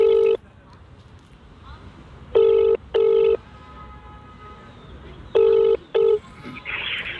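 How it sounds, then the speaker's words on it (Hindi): Phone keypad tones beep in short bursts, a few single and paired dial presses spaced apart, with quiet room murmur between them and a faint ring starting at the end. "आप खाली सुनो और मैं फ़ोन करूँगा"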